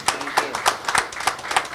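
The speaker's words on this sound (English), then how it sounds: "Let's give a round of applause to the person who does the cooking every day, our chef Ruben Diaz" Several people clap in an irregular rhythm for chef Ruben Diaz at a cholent cooking event, with sharp close claps bunched in quick bursts.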